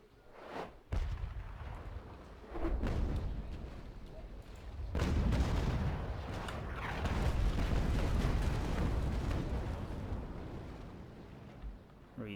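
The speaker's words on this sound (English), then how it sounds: "Fire off our rounds against the Mercury." Ship cannon fire from a naval battle in Naval Action, a frigate engagement: several loud, rumbling broadside blasts roll out in waves, with sustained boom and crackle lingering between shots and no voices.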